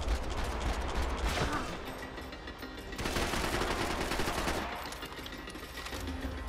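Sustained bursts of Uzi submachine gun fire in the video game Max Payne 3, rapid rattling shots in two long volleys with a short lull between, fairly quiet overall.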